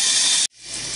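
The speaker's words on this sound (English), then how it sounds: "That's what it's doing, is regenerating, throwing the water out." A water softener regenerates and flushes water out, a loud, steady rushing hiss that cuts off abruptly for an instant and then swells back up.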